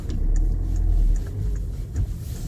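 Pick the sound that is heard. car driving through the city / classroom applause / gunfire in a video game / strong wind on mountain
car driving through the city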